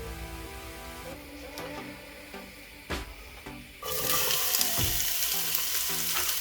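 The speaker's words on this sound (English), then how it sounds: "And then we're going to add in the onions." Thinly sliced onions tipped into a pan with cassia and cinnamon for chicken xacutti, a quieter stretch with a few clunks and tonal hum, then a sudden loud bright sizzle that holds steady with occasional stirring knocks.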